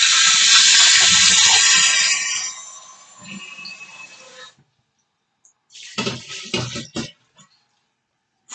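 A kitchen tap runs strongly for about two seconds, then trickles off and stops, followed by short bursts of splashing water in a small kitchen sink.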